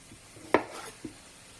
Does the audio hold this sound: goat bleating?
no